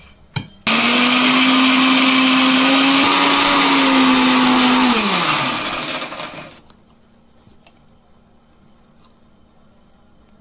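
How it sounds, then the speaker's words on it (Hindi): A mixer grinding jar blending onion and cashew into a paste, a loud close whirring motor that starts abruptly, holds steady for about five seconds, then winds down and stops, leaving a quiet room. "ଏବେ ଆମର ଗ୍ରାଇଣ୍ଡିଂ ଜାରରେ ପଡ଼ିଲା"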